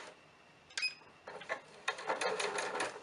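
A sewing machine sews a centered zipper and backstitches, with a small click followed by short bursts of fast needle stitching that grow more continuous toward the end. The sound is fairly quiet.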